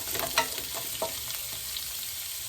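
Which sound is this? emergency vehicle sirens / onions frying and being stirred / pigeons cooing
onions frying and being stirred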